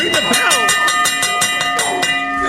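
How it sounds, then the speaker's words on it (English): A wrestling ring bell is rung rapidly at an independent wrestling event, about a dozen sharp metallic clangs in quick steady succession, loud and close, with commentary and crowd noise underneath. "Ring the bell! Ring the bell!"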